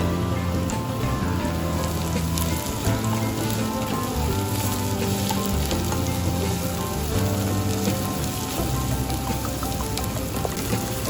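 Shiitake mushrooms fry in oil with shallots and garlic, giving a continuous, close sizzle with dense crackling pops. It holds steady throughout, with no speech over it.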